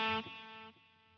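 A guitar run through a Line 6 vintage digital delay set to 48 kHz plays a single sustained chord with a bright, slightly distorted tone, followed by a quieter repeating echo that fades out, all alone and fairly soft.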